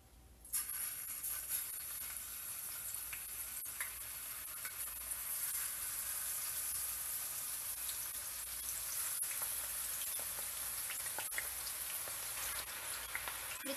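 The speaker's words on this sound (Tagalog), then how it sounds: "Ang una natin gawin ay prito muna natin yung ating toge." Bean sprouts (toge) frying in a pan for stir-fried ginisang togue, giving a steady, dense hiss and crackle that runs nearly the whole time with a few sharper pops, close up and without talk.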